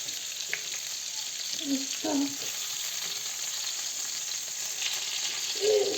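Fish fillets frying in hot oil in a pan, a steady faint sizzle with a few brief louder crackles and stirring sounds, no talking.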